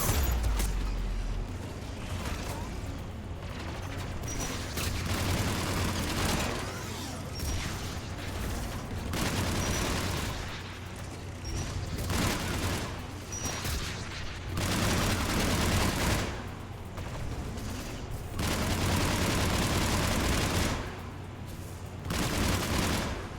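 Turret gunfire in Mass Effect 3, heard as repeated rattling volleys in long bursts separated by brief lulls over a steady mechanical hum, loud and sustained.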